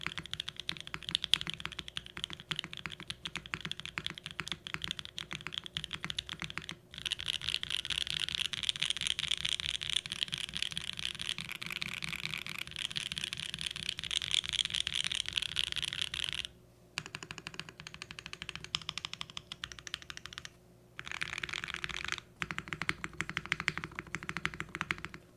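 Rapid, continuous clacking comes from a Mode Encore mechanical keyboard fitted with marshmallow switches, recorded up close. Bursts of typing are broken by a few brief pauses, and there are no voices.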